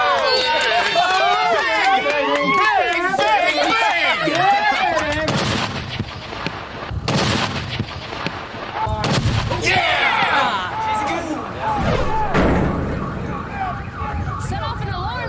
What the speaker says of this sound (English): Set off an alarm on that one.